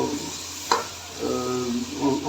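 Chopped tomatoes go into a hot pot for junglee pulao, giving a soft sizzle and frying hiss with a couple of sharp spoon knocks and stirring scrapes; close, brief, with no talking.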